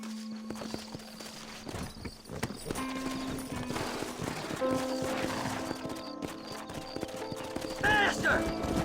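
Steady clip-clop of galloping horse hooves in Red Dead Redemption, with a horse whinny near the end and game music and ambience underneath.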